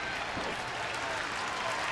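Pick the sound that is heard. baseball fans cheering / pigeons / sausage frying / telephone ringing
baseball fans cheering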